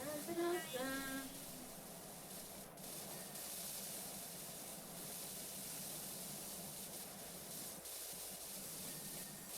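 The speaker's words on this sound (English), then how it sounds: "I'm just spraying everything because it sounds good." Cleaning spray hisses in a steady, continuous broadband rush for nearly the whole stretch, with a brief voice at the start before the spraying runs on alone.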